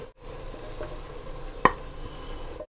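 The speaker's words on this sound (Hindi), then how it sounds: "अब मैं आलू को निकाल ले रही हूँ एक एक करके।" Fried potatoes lifted one at a time out of spiced masala in a pan for a homemade mutton potato curry, a soft steady sizzle with one sharp utensil knock midway.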